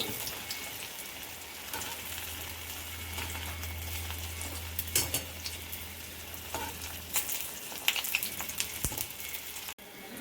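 Taro leaf pakoras fry in oil over medium heat, a continuous crackling sizzle with scattered pops and a faint low hum, close and steady without voices.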